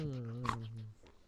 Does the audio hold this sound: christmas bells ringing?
no